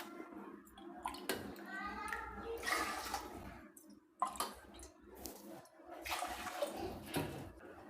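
Water is poured into washed rice in a pot for Tamil ven pongal, splashing and gurgling in several bursts close by, with a voice speaking between them.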